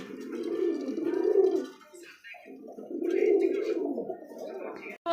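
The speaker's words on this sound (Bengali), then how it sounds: "এটা ডাকটা দেখান।" A single male pigeon gives two long, loud, close rolling coos, each lasting over a second with a brief pause between them.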